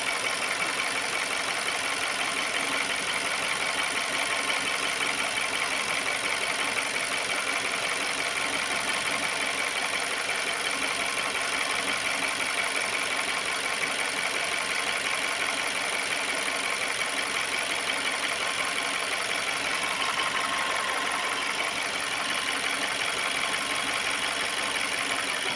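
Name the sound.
VW car engine idling, radiator fan kicking in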